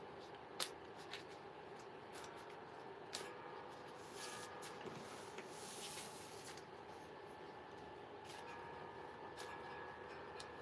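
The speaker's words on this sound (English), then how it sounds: "Sometimes it takes a little shuffling." Soft, steady rustling and riffling of tarot cards being shuffled, quiet and continuous, with a few faint taps and clicks.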